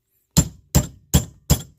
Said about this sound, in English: I hammer it like this, bringing them apart